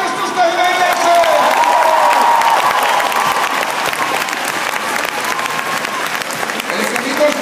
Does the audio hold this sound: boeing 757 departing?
no